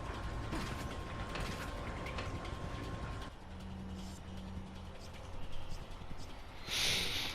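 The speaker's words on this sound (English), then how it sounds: "The conveyor elevators, I should say, that rotate around in a circle, like a carousel." Rotating conveyor elevators in Resident Evil 4 turning like a carousel, a continuous mechanical clanking and ratcheting of gears that shifts to a lower hum partway through, with a brief burst of noise near the end.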